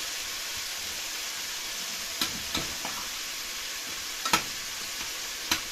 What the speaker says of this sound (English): I'm just moving them around to cover the entire pan, the entire wok